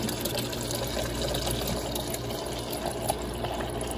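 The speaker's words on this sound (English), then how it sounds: "water comes out" Water spraying steadily from the filter housing of a Whirlpool refrigerator, a faint continuous hiss and trickle with no talk.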